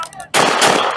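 Gunfire erupts during a police shootout with a rifle-armed suspect, a sudden loud burst of rapid shots that starts after a brief quiet moment and continues densely to the end.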